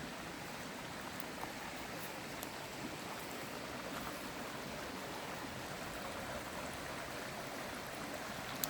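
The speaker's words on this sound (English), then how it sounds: "we're going to come in a little closer to the brook" A brook flowing through the Maine woods on a hot day, a steady soft babble of running water, even and continuous, heard at moderate distance with no voices.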